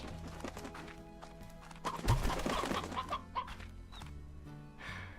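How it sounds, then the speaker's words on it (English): Clucking chicken from the Slime Rancher game, a few short clucks and fowl calls over a steady busy game background with soft clip-clop-like ticks. "Oh, chicken, how did I miss you?"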